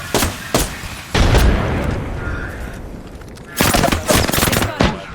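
Bursts of rapid automatic gunfire and heavy shots in the battle royale game Apex Legends, loud and close, in two clusters separated by a quieter stretch with a lingering rumble.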